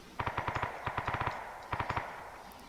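Gunfire in the video game Arma 3: rapid bursts of automatic fire, two long strings of evenly spaced shots and a shorter burst, over a steady background hiss.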